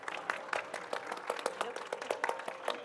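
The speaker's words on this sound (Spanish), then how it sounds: "Un fuerte aplauso a los autores" An audience at a book fair panel applauds the authors, with steady, moderately faint clapping from a modest crowd filling the room without pause.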